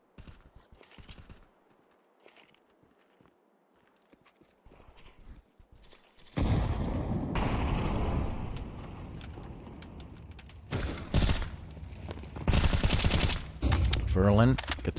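Gunfire from a Counter-Strike pro league match, with bursts of rifle shots and clattering footsteps building loudly after a quiet opening, repeated sharp volleys near the end.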